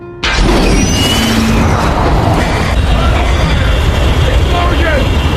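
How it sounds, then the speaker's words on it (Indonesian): A sudden, very loud explosion on an airplane bursts in after a brief quiet, then gives way to a sustained, roaring rumble that fills the rest. "terjadi sebuah ledakan di pesawat"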